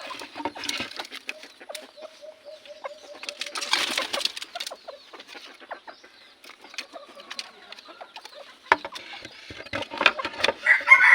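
Labuyo junglefowl and green-legged Texas chickens cluck and chirp in a rural pen, with short calls and scattered flapping and rustling, moderately close, with busier activity near the end.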